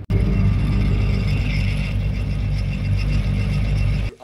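Caterpillar skid steer drivetrain running in gear during a planetary inspection, a loud continuous mechanical whir and grinding rattle close up that holds steady for several seconds before cutting off.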